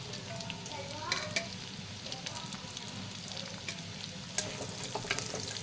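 Chopped ginger, garlic and green chilli sizzle and crackle steadily in a hot pan, with scattered sharp spatters and the occasional scrape of stirring throughout, close up and with no voices.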